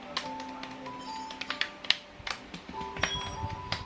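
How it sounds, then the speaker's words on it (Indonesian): Fingertips patting skincare essence into facial skin, a run of soft, quick irregular taps close by, alone with no talk over them. "Jo biasa kayak tepuk-tepuk kayak gini biar lebih meresap"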